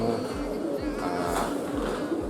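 Pigeons cooing in low, repeated rising-falling calls, steady and close, under a busy background of many birds and some talk.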